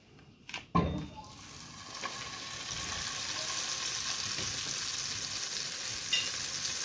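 Butter melting in a hot frying pan while twisted cookies are being made, a soft, steady sizzle that starts after a few clanks of the pan and lasts to the end, faint and alone.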